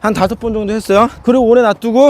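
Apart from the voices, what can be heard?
No distinct noise like a dog, phone or traffic.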